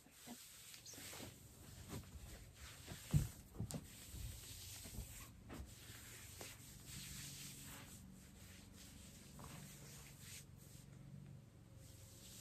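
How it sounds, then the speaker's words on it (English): Hands being rubbed together close to the microphone in a quiet room, producing soft, dry brushing swishes that rise and fall for several seconds and then fade to faint rustling. "Just rub your hands together."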